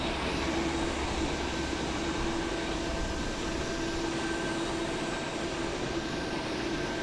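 A jet airliner in Star Wars livery at Haneda Airport, Tokyo, gives off a steady, distant engine drone with a constant whine, unchanging in level for the whole stretch.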